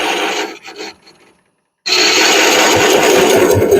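A saw cutting into wood: short rasping strokes, a pause, then a continuous loud grinding rasp close by with no talking.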